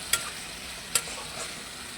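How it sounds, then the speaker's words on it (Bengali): Masala with tomato for an Andhra-style Hyderabadi fish curry is stirred and fried in a pan. Two sharp spoon scrapes ring out over a soft, steady sizzle, with no voices. "এই যে এইভাবে মশলাটা হয়ে আসছে, একটু আর একটু কষা হবে"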